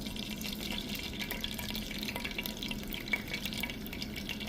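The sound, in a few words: pouring hot cooking oil into a pan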